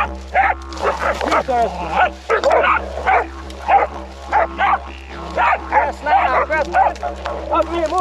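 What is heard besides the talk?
dogs barking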